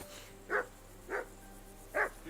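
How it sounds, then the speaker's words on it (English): A dog barks in Kingdom Come Deliverance 2, three short separate barks spaced about half a second apart, moderately near over a quiet game ambience. "Henry, that barking's driving me nuts."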